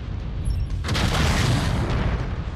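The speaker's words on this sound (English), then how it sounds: "Just absorbing all those freaking shots from" Tank and hovercraft fire slams into a mech during a raid in Mechwarrior 5: Mercenaries, heard as a loud, continuous barrage of booming impacts and rumbling explosions with no talk.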